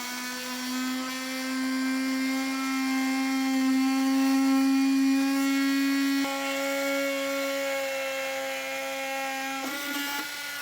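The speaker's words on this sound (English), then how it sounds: "And then we'll take a multi-tool and cut it out." An oscillating multi-tool buzzes steadily as it cuts through the plastic bumper fascia of a 2025 Honda CR-V for a Curt Class II trailer hitch, a sustained high whine that dips in pitch as the blade loads and stops near the end.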